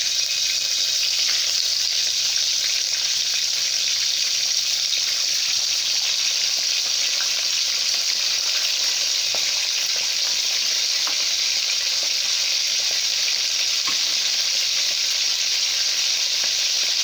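Medium-thick slices of meat frying undisturbed in a hot pan give off a steady, dense sizzle and crackle that runs continuously throughout, with no voices.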